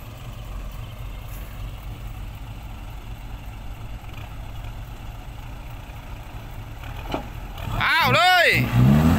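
A frequently stalling farm tractor stuck in mud rumbles steadily at idle, then its engine surges loudly in rising and falling revs near the end, with people talking over it.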